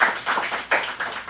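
A small group in a teen acting class gives a short round of applause, with a few quick bursts of close clapping that rise and fade over about a second.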